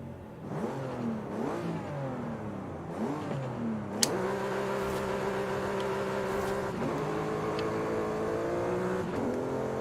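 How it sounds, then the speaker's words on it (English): A car engine in the Forza racing game, tested for rear-wheel versus all-wheel drive, revs up and down in several pulls before settling into a steady, loud, sustained drone with brief shifts, no talking over it. "So let's take this car for a drive."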